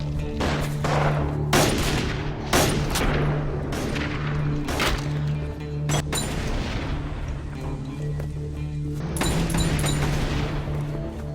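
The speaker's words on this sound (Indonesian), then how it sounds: "saat itu juga terjadilah baku tembak" Repeated gunshots crack in irregular bursts over a continuous rumbling background, loud and chaotic like a prolonged shootout.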